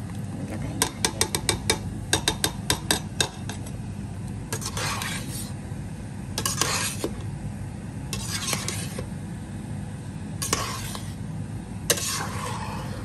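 A spoon stirs binignit with small tapioca balls in a pot: rapid clinking taps against the metal alternate with longer swirling strokes, close and steady over a low simmering hiss.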